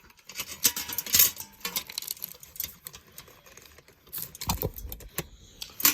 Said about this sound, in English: I gotta remove this tape off this wire nut.